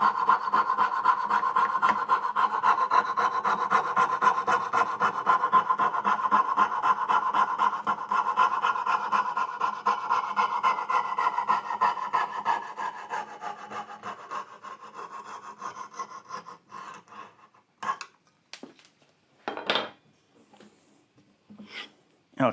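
A hand saw cuts through wood for dovetail joints in steady, rapid back-and-forth rasping strokes, close and continuous for most of the stretch, then breaking into a few separate strokes and pauses as the cut finishes.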